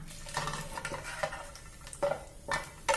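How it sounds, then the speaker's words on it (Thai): Scraping and clattering of a utensil against a wok while dry-roasting dried chilies, with irregular stirring strokes and light sizzle underneath, close by. "ต่อไปเราก็จะคั่วพริกแห้งนะคะ"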